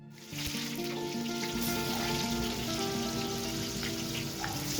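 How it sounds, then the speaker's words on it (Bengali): Cumin seeds sizzle in hot oil for a Bengali echor (jackfruit) curry, a steady close crackle and hiss that starts abruptly and holds without talk. "আমি একটু তেলের ওপর জিরে দিয়ে দিলাম বন্ধুরা"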